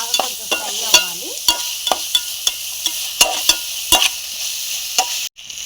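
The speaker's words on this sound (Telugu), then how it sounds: "అల్లం వెల్లిపాయ పేస్ట్ వేగింది కదండి, ఇది కూడా బాగా కొంచెం ఫ్రై అవ్వాలి." Ginger garlic paste with mint and coriander frying in a pan for bagara rice and chicken curry, a steady close sizzle broken by sharp scraping stirs and ladle knocks, with no talking.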